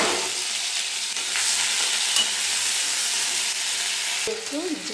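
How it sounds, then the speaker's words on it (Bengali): Prawns, stiff from the fridge, fry in hot oil in a wok with a steady, loud, crackling sizzle throughout, with a faint utensil clink near the end. "এবার তেল দিয়ে দেবো চিংড়ি মাছটা ভাজার জন্য। চিংড়ি মাছটা দিয়ে দিলাম।"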